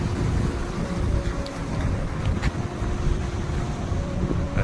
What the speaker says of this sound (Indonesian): Nah, itu ombaknya sangat besar sekali.